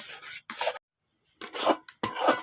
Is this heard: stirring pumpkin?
yes